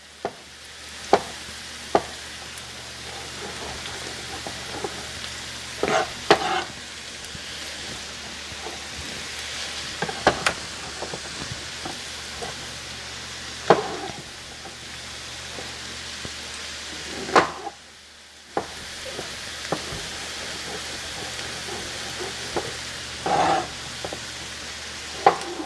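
Mushrooms and onions fry in a pan for a Polish cabbage roll dish, a continuous soft sizzle with occasional sharp scrapes and taps of stirring, steady and close.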